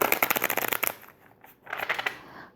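Tarot cards riffled and shuffled by hand in two quick bursts, a dense rapid flutter of card edges, then a short pause and a second softer run, close and clear with no talking.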